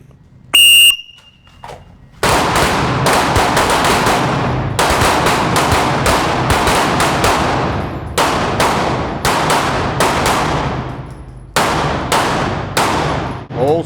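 Rapid volleys of handgun shots ring out during a shooting class drill in Terre Haute, Indiana, loud sharp cracks fired in quick pairs and triples by several shooters with short pauses between strings, after a brief beep at the start.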